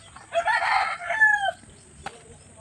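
A rooster crows once nearby, a loud, drawn-out call that trails off, followed by a brief click and quiet.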